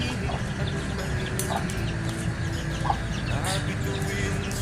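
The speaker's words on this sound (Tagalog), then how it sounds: "Ayan na mga idol, ang ating walong sisiw." Eight newly hatched chicks peep in high, thin calls amid a clucking hen and other farmyard fowl, with a constant busy background hum and occasional brief voices.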